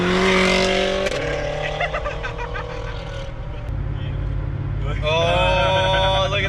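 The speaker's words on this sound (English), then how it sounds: "Oh, look at that Mustang. Mustang pulling." A Ford Mustang launches and accelerates down a drag strip at a night of drag racing, engine roaring loud and close, rising in pitch through gear changes, with crowd noise and voices around it.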